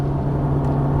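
A Ferrari F430 engine held at light throttle, a steady low droning hum with a strong constant tone, close and continuous for a second without talk.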